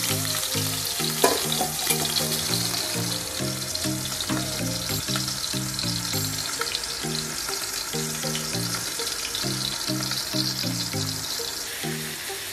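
Freshly caught fish frying in hot cooking oil outdoors, a loud steady crackling sizzle that runs throughout with occasional pops, and a faint rhythmic tonal pattern underneath.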